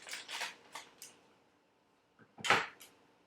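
Indoors, food for a buckwheat meal prep gets cut with a few quick crisp snips in a short burst, then a pause before one louder snip, all close and fairly quiet.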